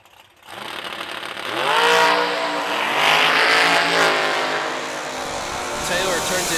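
Scott Taylor's roadster launches down the drag strip at a drag racing event, its engine rising from quiet into a loud, climbing roar that holds, with an announcer talking over it.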